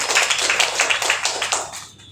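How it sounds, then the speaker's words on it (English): Audience at an Alliance Business Connect chapter event gives a brief round of applause, a lively patter of many hands clapping at close range that thins out and fades after about two seconds. "A big round of applause for them."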